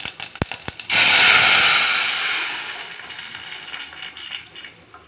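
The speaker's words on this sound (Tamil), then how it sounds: "அப்புறம் நம்ம கலந்து வச்ச ரசத்தை இதில் ஊற்றிடலாம்." Lemon rasam is poured into a hot tempering pan, bursting into a loud rushing sizzle that swells fast and then slowly fades to a soft crackle, after a few sharp clicks at the start.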